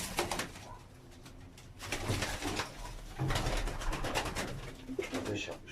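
Ankara Bozkırlı pigeons coo in a loft with soft, repeated throaty calls, mixed with occasional flutters and rustling close by.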